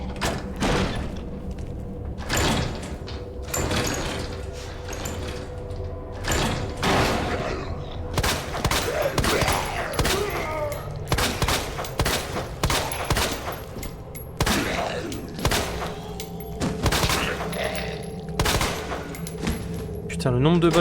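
Repeated gunfire in the survival horror game Resident Evil 2, with sharp shots and thuds recurring throughout over a steady game background and occasional speech.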